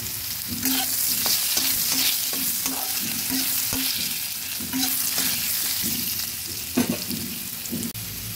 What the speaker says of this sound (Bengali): একটা আলুকে ছোটো ছোটো করে কেটে নুন হলুদ দিয়ে ভাজতে বসিয়েছি